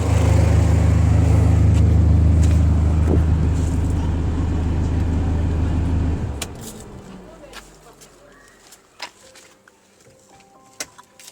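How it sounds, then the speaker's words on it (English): A Peugeot 407 with an air-conditioning fault that blows warm air idles with a loud, steady hum, then is switched off. The engine drone dies away into near silence, broken by a few faint clicks. "Let me shut down this car first."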